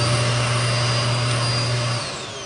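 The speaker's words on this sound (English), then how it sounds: "That vacuum hose will go in there," A built-in vacuum in a 2026 Forest River No Boundaries NOBO 19.2 camper trailer runs with a steady loud whine and low hum, easing off slightly toward the end, no voices.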